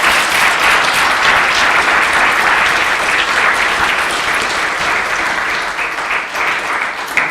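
An audience at an evening award event claps steadily for about seven seconds, giving dense, even applause that fills the room with no voice standing out.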